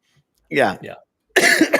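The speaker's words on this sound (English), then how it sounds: "I got a cough." A person coughs twice, close and loud, with a short pause between the two coughs.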